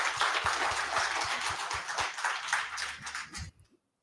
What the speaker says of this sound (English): I would like to request from the audience another round of applause.